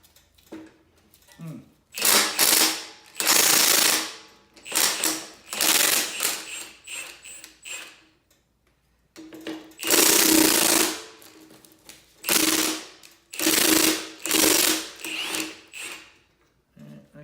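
Loud bursts of an impact gun removing brake bolts from a 1968 Impala disc brake, hammering in short and longer runs, separated by quiet pauses, close by, with a faint voice in the gaps.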